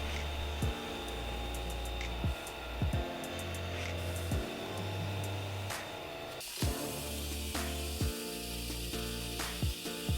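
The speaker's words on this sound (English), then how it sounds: "You'll see me opening and closing the brake bleeder and shutting off the vacuum." A vacuum brake bleeder runs on a GMC Sierra 2500HD Duramax during rear brake bleeding, giving a steady airy hiss broken by occasional soft clicks and a brief change in tone partway through.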